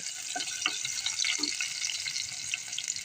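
Thickly sliced onions sizzle steadily in a hot pan while browning for adobong pusit, a bright crackling hiss close by with occasional soft stirring taps.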